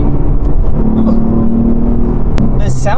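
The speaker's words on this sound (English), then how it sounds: "It sounds like the exhaust is coming out like right under my feet." Exhaust note of a 2012 Ford Mustang V6 under acceleration, heard from inside the cabin as a steady low drone with rising tone, and a voice breaks in near the end.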